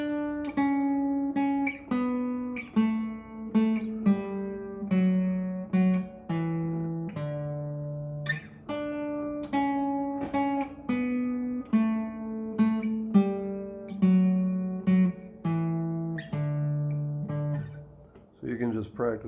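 Guitar picking a song's bass line on the lower strings alone, a clear repeating pattern of single plucked notes at a steady moderate tempo, up close with no voice over it.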